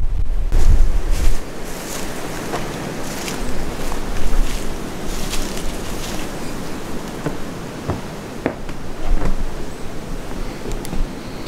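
Wind blows outdoors near an abandoned gas station, buffeting the microphone in a loud, steady roar with gusty swells and occasional knocks, and no voices.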